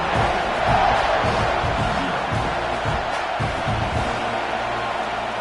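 A home football crowd in a video game cheers as a steady, dense roar that holds even throughout, with soft stadium clatter beneath and no single voice standing out.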